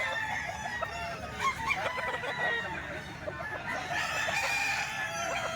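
A young stag gamecock crows loudly and nearby, its long call rising over a chorus of clucking hens and other fowl, with a faint voice in the background.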